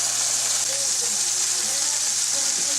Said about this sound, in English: Can you hear that? That's the sound of cooking.